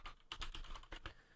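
Fast typing on a computer keyboard while coding in Visual Studio for Mac, a close, irregular patter of crisp key clicks with no voice over it.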